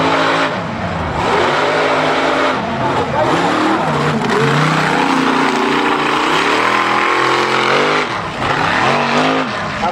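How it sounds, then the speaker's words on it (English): A racing truck revs its engine hard at a redneck yacht club mud run in southwest Florida, loud roaring and wavering pitch as the throttle rises and falls, with a commentator talking over it. "we'll see Robbie Armstrong in the eight-up racing truck"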